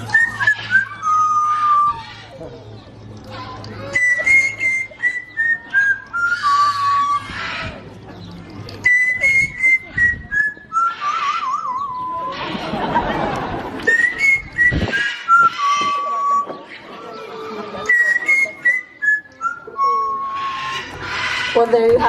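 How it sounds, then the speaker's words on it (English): A trained bird whistles a made-up tune at an animal park, a clear run of repeated rising and falling whistled phrases close by, with short pauses between them and a brief burst of crowd noise partway through. "He makes these tunes up as he goes along, so I never quite know what's going to come out of that little beak"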